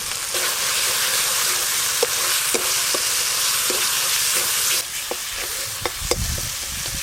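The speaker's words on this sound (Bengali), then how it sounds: "কাঁকড়া রান্নার জন্য মশলা কষানো হয়ে এসছে" Spice paste with tomato, cumin, turmeric and red chilli paste fries for a crab curry, a loud continuous hissing sizzle with scattered spoon taps and scrapes against the pan, close and without talk.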